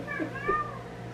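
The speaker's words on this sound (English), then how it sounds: "she's in heat, so you're going to hear a lot of meowing." A cat in heat meows in the background, two quick plaintive calls in close succession, moderately faint beneath a low steady hum.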